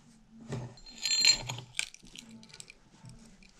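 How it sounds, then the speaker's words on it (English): The clutch of an old Poulan chainsaw, over 20 years old, is threaded on by hand, giving quiet metallic clicks, scrapes and small rattles in irregular bursts close by. "So you're just going to hand thread it."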